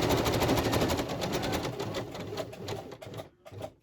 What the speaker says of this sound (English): I do wonder whether you can see what I'm sewing, but I'm just zigzagging.